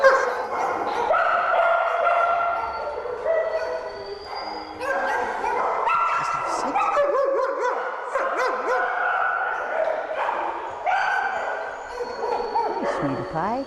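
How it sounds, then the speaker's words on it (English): Many dogs bark, yip and whimper continuously in an echoing animal shelter kennel area, a dense overlapping chorus with a person talking underneath. "I don't know how much you'll be able to hear me in here because the dogs get very noisy"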